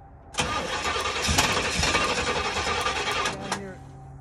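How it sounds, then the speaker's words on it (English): A Pontiac GTO with a weak battery cranks and fires, running roughly for a few seconds with sharp pops as it backfires through the carburetor, then cuts off; loud and close. "Interesting that you're backfiring that bad out of the carb."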